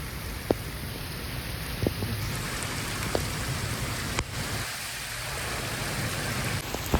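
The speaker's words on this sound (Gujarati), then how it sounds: "વરસાદ ભૂકા કાઢે હો જોરદાર પડે વરસાદ" Heavy rain pouring steadily, a dense continuous downpour that stays loud and close throughout, with a few sharper drops or knocks standing out and no talk over it.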